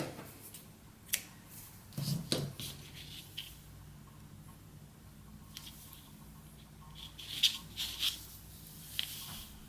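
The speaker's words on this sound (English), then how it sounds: "I'm gonna cut my yarn, leaving a bit of extra here." Scissors snipping worsted weight knitting yarn, a few quiet crisp cuts with soft handling rustles in between, close and faint in a quiet room.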